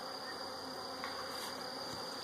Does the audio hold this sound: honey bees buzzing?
yes